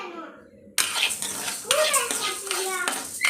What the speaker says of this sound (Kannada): ಹುರುಳಿ ಚೆನ್ನಾಗಿ ಫ್ರೈ ಮಾಡ್ಕೋಬೇಕು